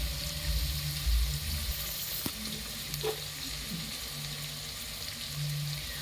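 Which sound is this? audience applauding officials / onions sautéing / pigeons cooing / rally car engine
onions sautéing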